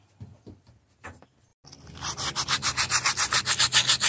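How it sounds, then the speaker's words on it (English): A few soft taps, then loud, rapid back-and-forth sanding strokes removing rust from a metal post, in a steady rhythm, scratchy and close. "we're going to begin by sanding this"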